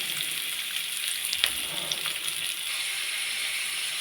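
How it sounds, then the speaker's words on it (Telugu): Two onions fry in a spoonful of oil for egg curry, giving a steady close sizzle and crackle with a few brief louder pops and stirring scrapes. "ఎగ్ పులుసు కోసమని 1 స్పూన్ ఆయిల్ తీసుకొని తర్వాత 2 ఆనియన్స్ని ఇట్లా ఫ్రై చేసుకోవాలి."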